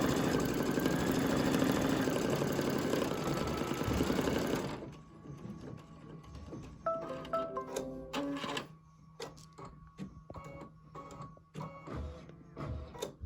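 A Brother Luminaire embroidery machine stitches out a custom decorative border, its fast needle chatter loud and steady at first, then thinning into softer irregular mechanical clicks and whirs.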